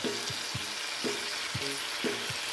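Fresh pancit noodles with pechay and oyster sauce sizzle in a pan, with four evenly spaced scraping stirs of a utensil cutting through the steady frying hiss.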